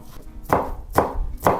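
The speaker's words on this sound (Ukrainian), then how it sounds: "наріжу трішки зеленої цибулі" Green onion being chopped with a knife on a board for a tuna and corn stuffed-egg filling: three crisp, evenly spaced knife strikes, close and clear, with no talk.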